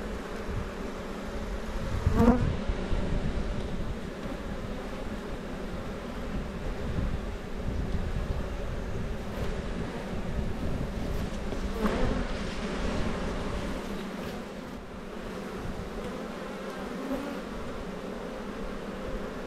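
Honey bees swarm and buzz around opened abandoned beehives, a dense continuous drone close by with a few brief louder passes and wind rumble underneath.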